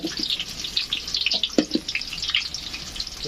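Boiled potatoes for biriyani are strained, with water splashing and dripping in irregular bursts from a sieve, near and moderately loud.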